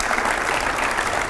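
Applause from a large audience welcoming a government minister onto a stage at a televised event: dense, loud clapping that continues steadily throughout with no voices.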